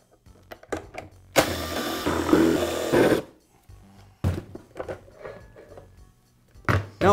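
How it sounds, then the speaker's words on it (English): A motor cover comes off a Porter Cable air compressor during repair: a scattered series of plastic clicks, scrapes and handling knocks, with one longer grinding, rattling stretch of about two seconds, close by. "Now remove the motor cover."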